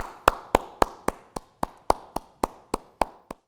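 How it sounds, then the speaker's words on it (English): Steady, evenly spaced claps for faculty and staff at the National University class of 2020 virtual commencement, about a dozen crisp single hand claps in a slow, regular beat, close and isolated with quiet between them. "graduates, let's show our gratitude for all the wonderful support with a round of applause"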